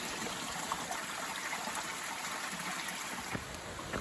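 Rock Creek on the Pacific Crest Trail in Washington or Oregon rushes steadily, a dense continuous wash of flowing water close by with no voices.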